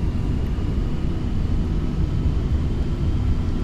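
A Boeing 767 on landing approach in Flight Simulator X, a steady loud low jet-engine roar that holds constant and close throughout with no talk over it.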